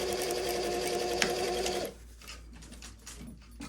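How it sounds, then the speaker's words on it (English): Sewing machine stitching a belt onto a dress, a steady, close, even whirr running for about two seconds before stopping, followed by quieter handling sounds. "I'm just gonna again sew this all up."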